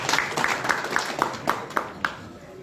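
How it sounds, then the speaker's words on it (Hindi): Audience clapping at a welcome gathering for Shrikant Tyagi in Kakkepur village, Siwalkhas, Meerut: scattered hand claps across the crowd, with a few sharper, louder claps standing out over steady background murmur. "अरे इसमें तो ताली बजाते हैं।"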